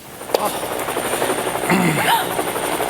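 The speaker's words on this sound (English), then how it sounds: "Oh, the helicopter." A helicopter drones steadily overhead at an outdoor dinner theatre performance, a loud continuous rotor hum beneath people talking and calling out.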